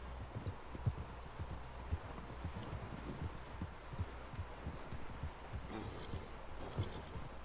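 Horse hooves clip-clop at a steady walking rhythm in the Red Dead 2 video game, faint and continuous with a soft muffled thud on each step, no talking.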